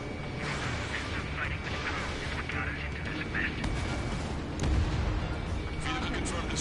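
Heavy rumbling explosion as a vehicle is destroyed in the combat flight game Ace Combat 7, with a sharp burst near the end over dense, continuous engine and battle noise and faint voices.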